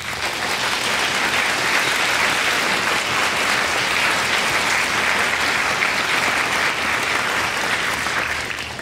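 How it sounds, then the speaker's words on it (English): Sustained applause from a large audience at a school spring concert of strings, concert and jazz bands, a dense, steady wash of many hands clapping without pause for nearly nine seconds. "So I wanted you to give them a round of applause for all their talents."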